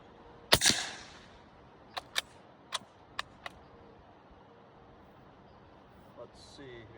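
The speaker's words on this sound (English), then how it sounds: "I'm going to start out with the standard ammunition out of this short magazine." A Delisle carbine fires Blazer Brass .45 ACP standard ammunition outdoors, one sharp report followed by four quieter muffled shots spaced about a second apart.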